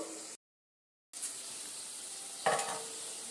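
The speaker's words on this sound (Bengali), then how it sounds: "এই সময় আমি কিন্তু সিদ্ধ করে রাখা ইঁচড়টা চিকেনের মধ্যে দিয়ে দেবো" Boiled green jackfruit tipped into a pan of chicken frying in oil sizzles steadily, broken by a short silence, then a louder burst of frying as the pieces land, with no talking.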